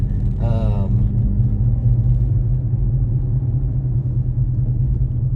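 A car passing outside makes a steady, loud low rumble that holds for several seconds, with a brief voice near the start.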